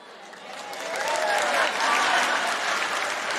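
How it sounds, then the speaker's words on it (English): Audience applause at a live comedy show in Perth, Australia: a dense, loud wash of clapping from a large crowd that swells and holds steady throughout, with no talk over it. "that clap was a solid 9"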